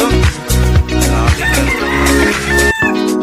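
A rooster crows loudly and close, a long strained cock-a-doodle-doo over dense clucking and squawking from other fowl.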